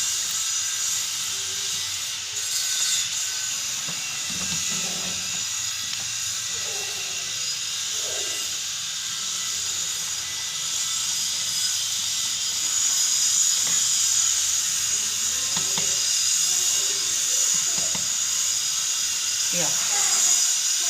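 Puris deep-frying in hot oil, two or three at a time, giving a steady close hiss and bubbling sizzle throughout, with faint clinks and a brief voice under it.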